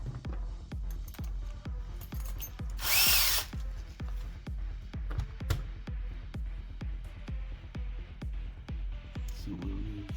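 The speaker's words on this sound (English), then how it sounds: "let's drill now all the holes that we need to do" Power drill boring holes in an enclosure for a 49:1 antenna balun, a steady close, loud whirring drive with a rapid regular ticking pulse and one brief louder high whine partway through.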